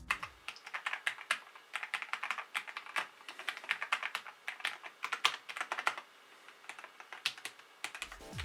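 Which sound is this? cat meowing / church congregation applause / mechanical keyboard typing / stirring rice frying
mechanical keyboard typing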